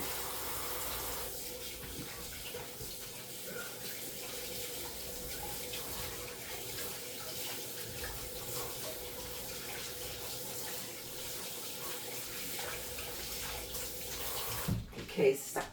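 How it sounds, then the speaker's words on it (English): Water runs steadily from a kitchen tap while hands are washed beneath it during bread dough making, a continuous close splashing stream that stops abruptly near the end with a few knocks. "let me wash my hands."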